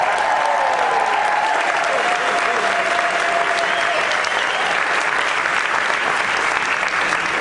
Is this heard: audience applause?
yes